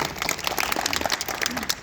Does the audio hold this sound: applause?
yes